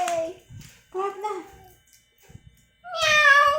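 A cat meows several times with clear, close cries, and a voice speaks between them.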